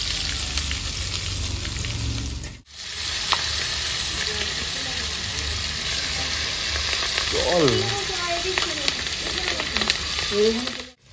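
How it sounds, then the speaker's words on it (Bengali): Bata fish frying in hot oil in a rural kitchen, a steady loud sizzle with stirring and utensil clatter, a brief break near three seconds and scraping sounds toward the end. "4 পিস মাছ আমার ভাজা হয়ে গেছে, আমি তুলে নিচ্ছি।"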